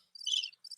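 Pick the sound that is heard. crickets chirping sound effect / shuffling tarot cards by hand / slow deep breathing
crickets chirping sound effect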